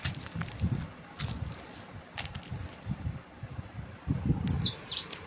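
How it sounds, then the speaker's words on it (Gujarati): A small bird gives a few high, quick chirps near the end, over faint outdoor rustling and soft low thumps. "કંઈક અવાજ સંભળાય છે. નાનું એવું પક્ષી છે."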